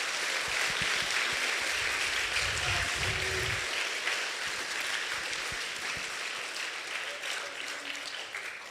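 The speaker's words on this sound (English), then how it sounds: "let's give Steve Butler another round of applause" Sustained audience applause for a guest presenter at a running camp morning session, dense steady clapping filling the room throughout with slight tapering near the end.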